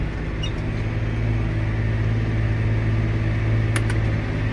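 A John Deere 8330 tractor downshifting from fifth to fourth gear, with a steady loud engine drone and a brief clunk near the end, no talking.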